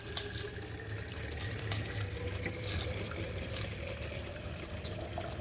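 Water from a LeveLuk SD501 Kangen water machine runs steadily into a container, a close, continuous splashing flow lasting several seconds with no voices.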